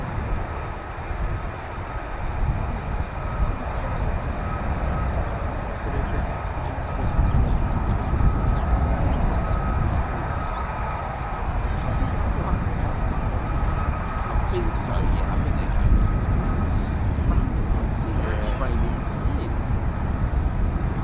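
An old military jet flies with a broad, rumbling roar that swells and fades, partly distant, while people talk over it.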